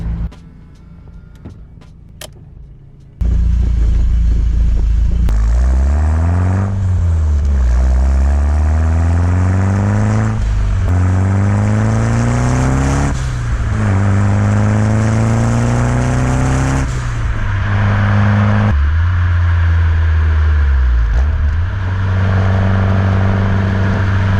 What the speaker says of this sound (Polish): jak mikrofon GoPro sprawdzi się przy nagrywaniu wydechu